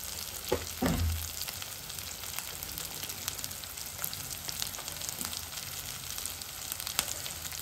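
Tomatoes frying in a pan with chili powder and salt give a steady, close crackling sizzle throughout, with a brief louder stir near the start.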